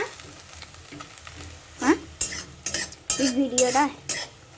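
Nabomi gugni ingredients sizzle in oil as a utensil scrapes and stirs them in a burst of quick, close strokes, and a voice speaks briefly over the frying.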